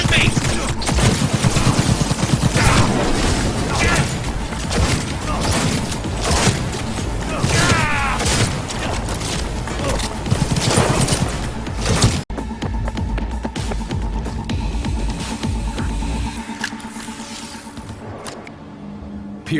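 Heavy gunfire in Cyberpunk 2077: loud, dense volleys of rapid shots and bursts dominate for about twelve seconds, then cut to quieter ambience with faint mechanical sounds and occasional voices.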